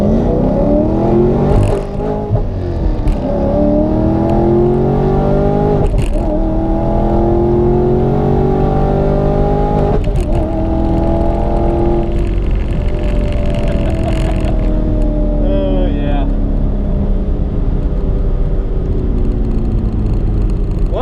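A Camaro SS and a Challenger Scat Pack accelerating side by side in a drag race, loud V8 engines climbing through repeated rising revs with gear-change dips, close and continuous.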